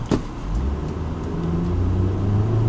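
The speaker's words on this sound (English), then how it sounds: "I'm fully stepping on the throttle." A Proton X50 accelerates at full throttle on the Sepang circuit, its engine note climbing steadily and growing louder over a sustained rumble, close and continuous with no talking.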